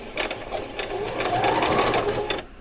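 A sewing machine runs a short back stitch on doll's coat fabric, a close, rapid mechanical whir with needle clatter that speeds up, holds and stops after about two seconds.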